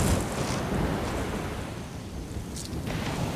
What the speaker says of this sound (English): We spend a wild night with winds gusting over 80 knots, but the real fury of the cyclone barely touches us up the mangrove creek